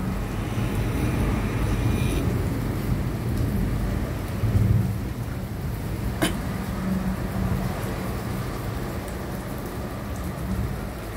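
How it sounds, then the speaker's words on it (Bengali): Heavy rain pours steadily on the beach at Puri during a storm over the sea, with a rumble of thunder rolling through midway and a sharp crack shortly after, no voices. "এই যে বাজ পড়ছে সমুদ্রের মধ্যে, সেই উত্তাল দৃশ্য আপনাদের দেখাচ্ছি"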